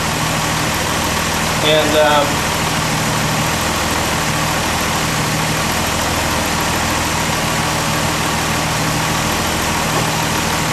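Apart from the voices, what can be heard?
Austin Healey tri-carb SU engine idle rising and falling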